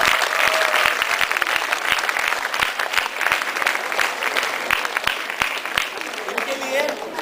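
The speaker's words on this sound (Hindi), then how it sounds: "जोर से ताली बजाइए" Audience applause at a 2011 marks sheet award ceremony, a sustained burst of many hands clapping in a crowd, loud and continuous throughout, with some speech mixed in.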